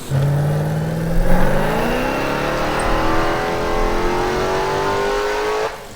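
A Nissan 350Z with a swapped Hellcat V8 held on a dyno, its engine climbing in one long, loud, steady pull from low rumble to high-pitched roar before cutting off abruptly.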